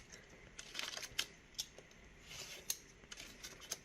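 Scissors cutting through folded paper for a slide craft project, with quiet, close snips and crisp rustles spaced irregularly across a soft background.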